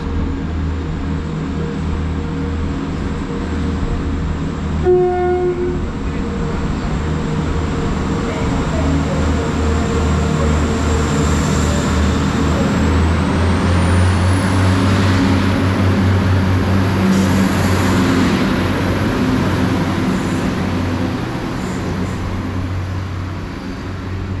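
Class 175 diesel unit 175116 pulls out of Manchester Piccadilly on the 13:39 service to Carmarthen, a loud, steady engine drone and rumble building as it departs, with a brief tone near the start and a rising whine later.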